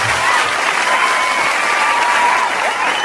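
A studio audience on a TV singing competition gives loud, continuous applause and cheering that holds steady for the whole stretch.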